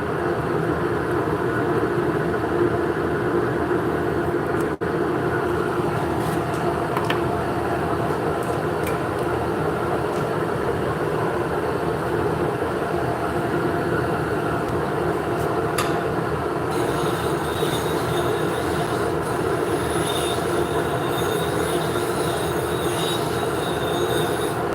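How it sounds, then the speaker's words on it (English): A woodturning gouge being sharpened makes a continuous, fairly loud abrasive whir with a faint high squeal, steady for the whole stretch, and no one speaks. "So I'm just sharpening."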